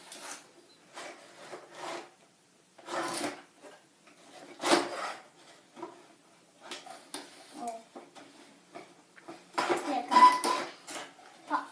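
Glass cups clink and rattle against cardboard and packing in bursts as they are unpacked from a box, with rustling and scraping between, close by and moderately loud.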